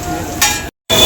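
Chowmein stir-fried in a wok at a Kolkata street stall sizzles loudly and close, with a scraping toss partway through before the sound briefly cuts out and returns.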